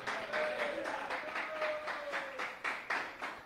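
A church congregation claps rhythmically in praise during a Spanish-language service, a steady pattering of many hands heard at moderate distance and fairly soft.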